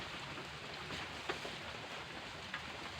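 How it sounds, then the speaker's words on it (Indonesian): Light drizzle falling outdoors, a faint, steady hiss of rain with a few soft drop taps, with no talking. "Ayeuna hujan bae ieu gerimis."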